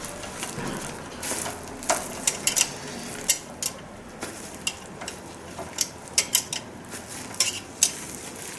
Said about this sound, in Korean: 자, 십자 드라이버하고 그 다음에 여기에 들어가는 이제 8mm 스팬을 이용해서 꽉 조여줍니다.